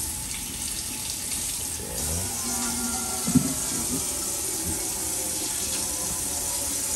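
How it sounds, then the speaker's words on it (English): Cold water pours steadily from a tap into a sink, a continuous broad rushing hiss that runs the whole time, with a faint clunk partway through. "Let me get that cold water for in there."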